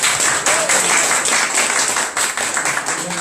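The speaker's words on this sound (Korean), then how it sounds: "두 분을 위해서 박수 한번" An audience applauding two people, loud, continuous clapping that fills the whole stretch without pause.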